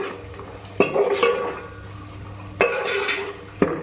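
Spoon clinks and scrapes against a pan while spices are mixed for a hotel-style aloo ka salan, a few sharp taps over a low steady hum and faint sizzle.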